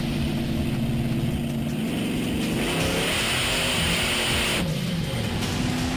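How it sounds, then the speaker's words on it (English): A 540 cubic inch Chevrolet engine in a jump vehicle revs loudly and steadily for several seconds, rising and falling in pitch with sustained close roar. "Joe Sylvester putting the heat in the motors of that 540 cubic inch Chevrolet engine."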